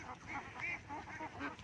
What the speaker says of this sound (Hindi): डक्स खूबसूरत आवाज़ें निकालते हुए